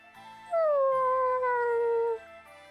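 A dog howls in the video game Bravely Default 2, one long, clear, slowly falling wail over faint game background.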